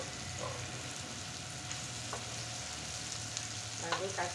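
Squid stir-fried with spices in a pan, giving a steady close sizzle with occasional soft scrapes and clinks of a utensil, no talking.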